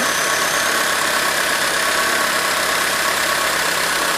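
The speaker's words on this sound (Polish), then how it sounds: "O, już jak się stabilizuje silnik. Coraz wolniejsze obroty ma." A 1.4-litre Opel Corsa engine idles steadily after an idle-speed adjustment, a continuous close mechanical hum and whir with constant even vibration and no voices.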